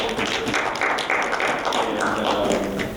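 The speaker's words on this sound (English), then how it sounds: "let's give her a round of applause" An audience applauds at a college panel on women in politics, steady close clapping for a few seconds with no voices over it.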